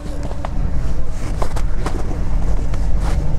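A Renault Duster idles on a snowy off-road rally track, its low engine rumble steady and continuous throughout, with faint crunching and handling noises over it and no clear talk.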